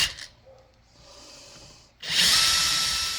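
A 90-degree angle drill bores into plastic, with short buzzes and quieter whirring before a loud, sustained grinding burst of drilling close by.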